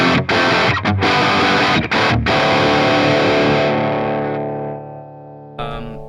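A single heavily distorted electric guitar chord through a Bogner Ecstasy amp rings out loud after a few quick strums, then slowly fades, followed by a brief scratch of noise.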